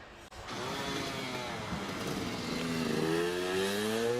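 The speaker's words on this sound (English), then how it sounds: "But this is Patrick Evans in his KTM 244cc, 250 class he's running in." A KTM 244cc motorcycle in the 250 class climbs a hill-climb course, its two-stroke engine buzzing loud and close, revving steadily and rising in pitch toward the end with no talk.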